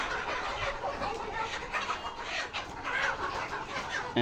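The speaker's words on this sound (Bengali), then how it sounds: "আজকে এই শেডটা থেকে এক হাজার মুরগি ডেলিভারি হচ্ছে" Layer pullet chickens cluck and murmur together in a busy, continuous chorus on a poultry farm, moderately distant, with shuffling noise around them.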